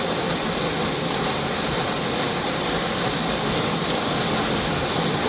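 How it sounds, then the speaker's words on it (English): A waterfall in a canyon on Vancouver Island, a loud, continuous broadband roar of falling water, steady and unbroken throughout with no voices. "All right, here's the waterfall."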